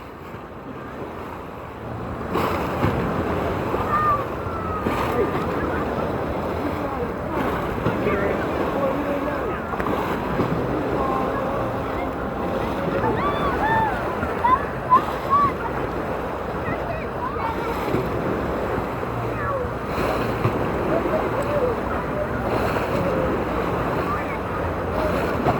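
Water churns and splashes steadily in the Blizzard Beach water park wave pool, with giant waves washing through under gusty wind buffeting the microphone and faint voices in the background.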